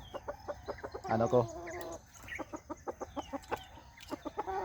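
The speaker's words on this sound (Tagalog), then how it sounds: "Yan yung aking barako" Rooster (a barako, or gamecock) clucking in a series of short, evenly spaced calls, fairly close, with a louder burst of squawking partway through.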